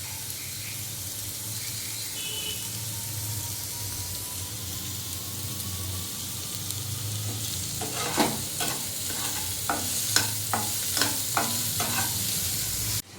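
Blended onion with chopped ginger and chili sizzles steadily in a pan, a constant frying hiss with a run of stirring scrapes and clinks toward the end, no voices.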